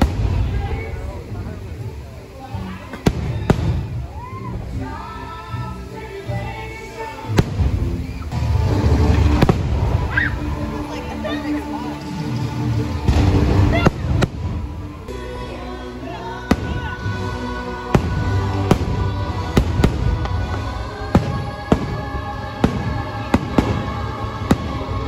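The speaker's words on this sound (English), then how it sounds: "So right now we're just going to kind of watch the fireworks from behind" A fireworks show bursts behind the castle at Magic Kingdom, Walt Disney World, with repeated sharp pops and booms over music and crowd murmur while people talk nearby.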